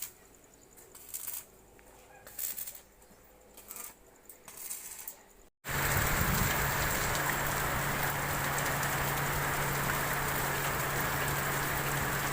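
Steady rain sets in about halfway through, a dense, even hiss of falling water on surfaces that continues without a break, after a quieter stretch of faint scattered sounds at a house under construction.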